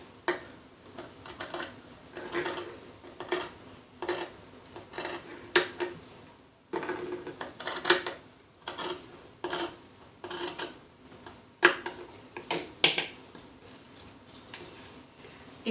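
Scissors cutting out a marked box on a sleeve pattern, a run of crisp snipping clicks in irregular bursts, close and fairly quiet, with no talking.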